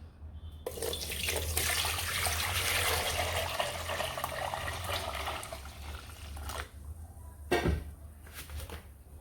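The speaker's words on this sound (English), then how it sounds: "I'm pouring it here and then getting out the kunu." Kunu, a millet and guinea corn drink, poured through a cheesecloth, making a steady close splashing stream of liquid for several seconds, then a pause and a brief final gush.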